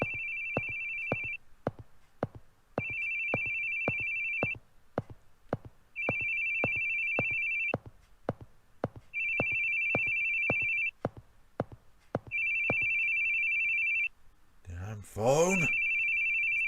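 Repeated electronic ringing of a phone in The Boogie Man video game, steady trilling bursts roughly every second and a half with brief game sounds between them, followed by a short burst of voice near the end.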